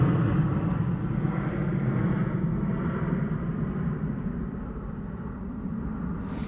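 A TUI Boeing Dreamliner airliner at Gatwick Airport produces a steady, deep jet rumble that holds at an even level and fades slightly, distant and continuous with no talk.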